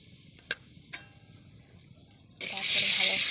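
Salt and turmeric powder hit hot oil in a pan for bitter-gourd frying, starting a close, steady sizzle near the end after a few faint ticks and clinks, with a voice speaking earlier.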